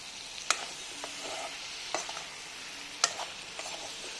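Pork with chopped chillies and crushed garlic and ginger is stirred in a pan over a soft, steady sizzle, punctuated by a few sharp metallic clanks of the spoon against the pan.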